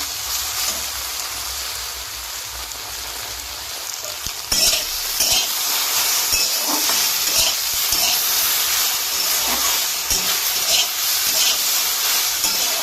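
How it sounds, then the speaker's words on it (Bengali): Okra (bhindi) frying in a pan gives a loud, continuous hissing sizzle that swells and grows denser partway through, close up, with no voices. "দেখুন ভেন্ডিটা খুব ভাজা হয়ে গেছে"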